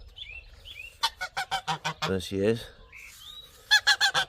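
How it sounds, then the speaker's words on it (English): A goose on a small farm gives a run of loud, close honks in two bursts, with a person speaking briefly between them. "And round this corner there might be a goose."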